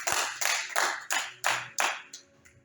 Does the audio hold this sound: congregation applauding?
yes